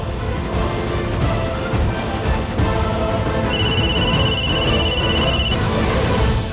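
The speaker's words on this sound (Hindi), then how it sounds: "आरती का फोन" A telephone rings in a Hindi television drama scene, a steady electronic ringing tone that starts midway and holds for about two seconds over a dense background music bed, with no talking.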